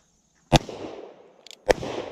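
Two sharp gunshots at an outdoor shooting range, about a second apart, each loud and close with a short echoing tail, and a faint click between them.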